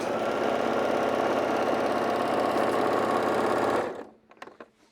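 A sewing machine stitches a quilt-as-you-go boho junk quilt in a steady, fast, continuous run, close and clear, then stops abruptly and is followed by a few faint handling clicks.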